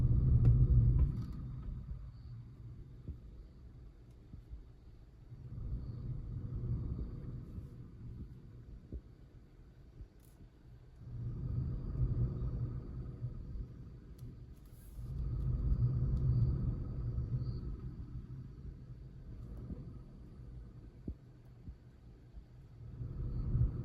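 A vehicle on a forest road at night in Jim Corbett National Park, heard as a low rumble that swells and fades in several slow waves, moderately distant, with no talk.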